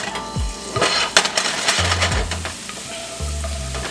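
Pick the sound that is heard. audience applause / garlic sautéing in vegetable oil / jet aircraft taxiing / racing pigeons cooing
garlic sautéing in vegetable oil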